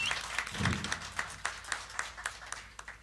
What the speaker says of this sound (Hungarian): Nagy tapsot neki is.